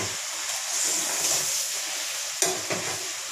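Spiced vegetables with asafoetida fry in a pan, giving a steady bright sizzle, with a couple of scraping stirs of a spoon near the end, close and moderate in level, with no talk.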